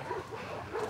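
Dogs at a dog shelter bark in short overlapping yaps from a moderate distance, a brief burst of barking.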